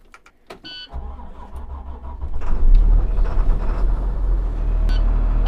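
A converted school bus engine cranks and fires up after a few small clicks and a whirring starter, then settles into a loud, rumbling idle up close, with no talking.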